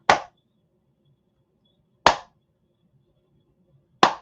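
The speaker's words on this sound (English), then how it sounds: "I'm gonna stand up and give him his own clap" A single person standing up to clap for a guest in the studio: three sharp, isolated hand claps spaced about two seconds apart, close and crisp with silence between them.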